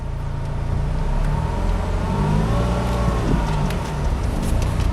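A manual convertible sports car, a Pontiac Solstice, Porsche 996 or Jaguar XK8, pulls away with a steady rising engine drone heard from inside the cabin, moderately loud and continuous throughout, with no talk.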